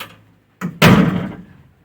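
A door on a Ford Falcon XC wagon opens up close with a short click and then a loud metallic clunk. The clunk rings out and fades over about a second.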